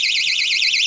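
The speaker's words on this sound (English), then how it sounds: "You know these little door alarms you can get in pound shops?" A cheap freezer door alarm sounds continuously, a shrill warbling high-pitched electronic tone that rapidly oscillates up and down, loud and close.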